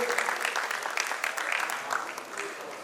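An audience claps for the poets at a Hindi poetry gathering, with a steady, fairly soft patter of many hands heard from a distance.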